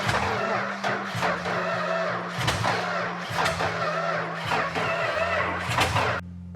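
An old car engine unused for 50 years cranks in repeated labored bursts, a low droning starter tone broken by brief gaps and sputtering surges, loud and close.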